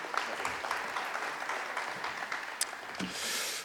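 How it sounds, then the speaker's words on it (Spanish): An audience at an olive-growing conference claps for a professor after his presentation, a steady, moderately distant round of applause holding for several seconds. "Un aplauso para él."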